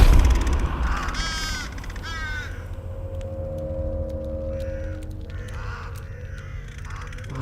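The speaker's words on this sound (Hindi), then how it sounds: "इस बॉडी को कौवे खा रहे थे और उससे खून टपक रहा था।" Several crows caw harshly in a film scene where they feed on a hanging dead body, a burst of loud close calls early on followed by quieter scattered caws over a low rumbling background.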